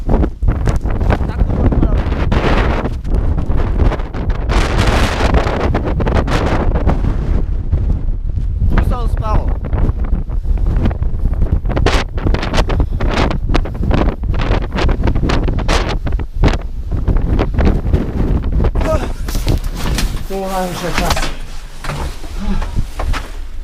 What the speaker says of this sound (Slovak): Dostať sa cez ten vietor.